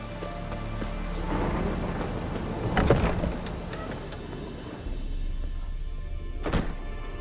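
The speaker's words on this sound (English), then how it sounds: "A storm, damn it." Stormy weather in The Witcher 3 video game: steady rain hisses throughout while rolling thunder booms swell in the middle and near the end, with no talking.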